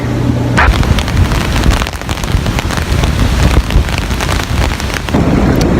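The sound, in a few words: rain falling in Coba, Mexico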